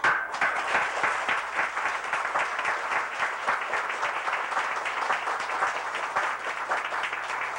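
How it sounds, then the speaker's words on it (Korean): A church congregation applauds during an elder ordination ceremony as commemorative medals are presented, dense, steady clapping from many hands that carries on evenly for several seconds with little talk. "우리 박수로."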